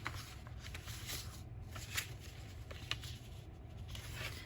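Paper envelopes are put together and handled, giving close, soft rustling and sliding paper sounds with a few light taps over several seconds and no speech.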